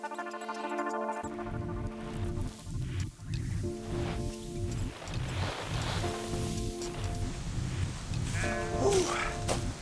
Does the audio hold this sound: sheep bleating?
yes